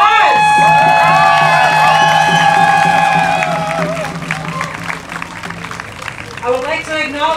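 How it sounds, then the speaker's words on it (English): An outdoor crowd at an Orange Shirt Day march for Truth and Reconciliation bursts into applause, cheers, whoops and children's shouts, loud and close at first, then easing into scattered clapping and calls. "Give yourself a round of applause."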